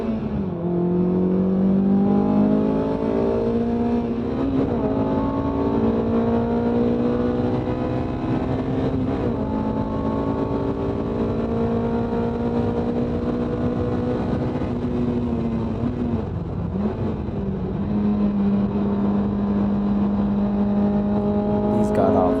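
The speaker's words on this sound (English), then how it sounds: "These god awful downshifts will only continue to get worse throughout the day." A race car engine in a hill race revs hard and continuously, its pitch sweeping up and down through repeated rough downshifts, loud and close throughout with no talking.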